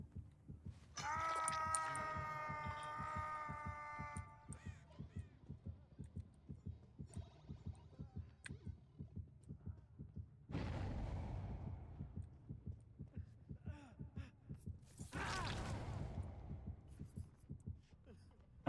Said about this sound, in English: I can hear his heartbeat.